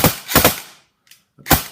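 An ICS UK1 Captain airsoft rifle on a 7.4 V battery firing on full auto, heard as quick sharp snaps in two brief bursts separated by a short silent pause, close by.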